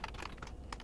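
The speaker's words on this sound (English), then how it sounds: "Maybe I'm typing something wrong." Several quick keystrokes clack on a computer keyboard in a short, uneven burst, soft and close with no voice over them.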